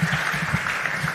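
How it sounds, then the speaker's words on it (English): Audience applause for a panel discussion at a Change the Convo session, a steady, dense wash of clapping heard alone without talk for the brief moment. "A round of applause, please."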